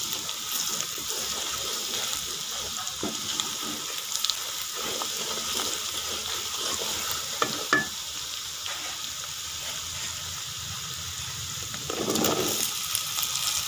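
Spices including coriander powder, cumin and salt being stirred into a frying turnip and radish curry mixture, a steady close sizzle with scraping stirs throughout and a louder stir near the end.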